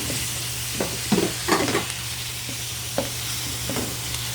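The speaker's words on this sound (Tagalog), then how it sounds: "Ito guys, gigisa namin mabuti ang pork." Ground pork sautéing in a pan for pansit palabok, a steady close sizzle with occasional stirring scrapes and clinks over it, no talking.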